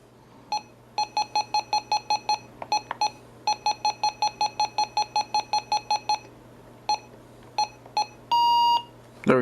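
RadioShack 12-382 clock radio emitting a rapid series of short, sharp electronic beeps in irregular bursts as the alarm is set, followed by a longer buzzing tone near the end, with a steady low hum underneath.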